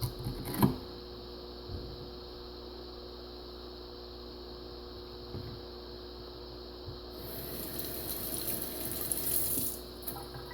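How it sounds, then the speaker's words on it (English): Dechlorinated water is poured into a Marineland 250 canister filter to prime it, a quiet running trickle that swells into a louder steady splash near the end, close, without speech. "I put in dechlorinated water first to get it primed up"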